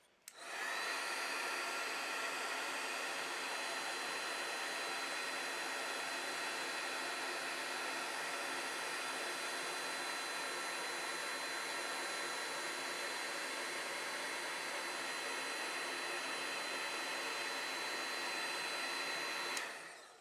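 A heat tool blows hot air to melt embossing powder: a steady, even whirring rush starts abruptly, holds at a constant level for about twenty seconds, then cuts off, with no voices.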